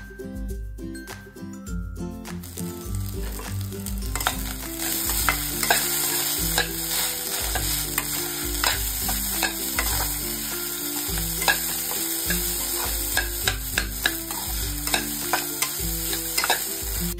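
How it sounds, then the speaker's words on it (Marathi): Idli upma made from leftover idlis is stirred in a pan, with steady frying sizzle and repeated scraping and knocking strokes of the spoon, close and fairly loud, with no voices. "हे सगळं आता व्यवस्थित छान असं मिक्स करून घ्यायचं आहे।"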